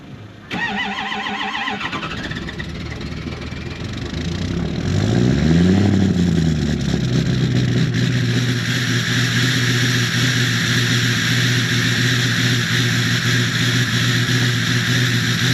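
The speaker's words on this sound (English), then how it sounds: "Time for another cold start video" A 6.0 diesel engine cold-starting in freezing weather, about 15 below: a brief cranking whir, then it fires and surges with a rising rev before settling into a loud, steady, close idle.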